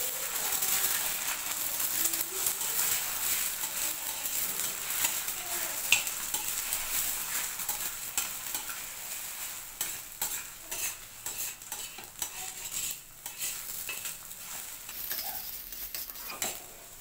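Two eggs cook in a pan over low heat for egg fried rice, giving a steady soft sizzle with frequent scraping and stirring of a utensil against the pan, close and continuous.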